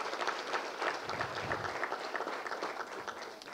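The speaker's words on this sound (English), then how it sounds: "Please give a round of applause for our co-sponsors and the media." Audience applause at a public lecture event, a dense steady wash of many hands clapping at moderate level, sustained for several seconds with faint voices underneath.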